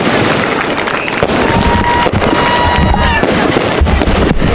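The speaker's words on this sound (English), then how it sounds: "fireworks going off." Fireworks bang and crackle before a high school football game, loud and dense throughout with a few whistling streaks, while crowd noise and voices run underneath.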